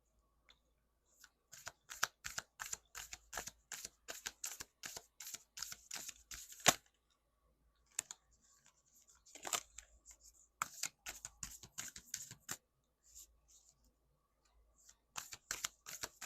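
Rapid riffling bursts of a card deck being shuffled close by, crisp flutters repeating in several rounds separated by short quiet gaps.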